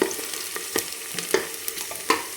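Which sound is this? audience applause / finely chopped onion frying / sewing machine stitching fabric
finely chopped onion frying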